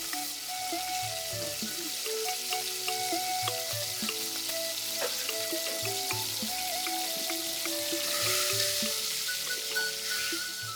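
Steady sizzling and crackling of mixed small fish frying in cooked spice masala in a wok, with light stirring clatter on top.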